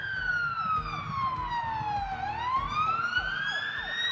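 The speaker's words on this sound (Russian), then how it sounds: "как вдруг услышали звук сирены" Emergency siren wailing outdoors, a single long tone sweeping slowly down then back up in pitch, steady and moderately distant over a low background rumble.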